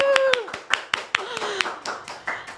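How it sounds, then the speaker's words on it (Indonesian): An audience at a podcast recording claps on cue, about a dozen crisp hand claps in an uneven rhythm across a few seconds, close and fairly loud, with a brief voice heard underneath. "Boleh tepuk tangannya?"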